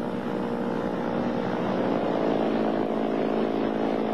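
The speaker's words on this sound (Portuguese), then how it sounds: "Uma hora depois, Bettina faz um pouso perfeito." A training airplane comes in to land with a steady, droning propeller engine hum, fairly loud and continuous, swelling slightly midway, with no talk.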